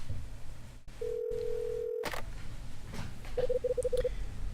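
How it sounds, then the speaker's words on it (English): Telephone dialing in the video game Last Window: a steady tone is followed by a quick run of short keypad beeps, clear over a low background hum. "Time to get Rachel on the phone."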